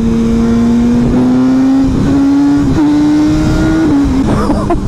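A BMW S1000R motorcycle engine revs steadily upward with a strong droning pitch that climbs, then briefly drops as it shifts, close and sustained.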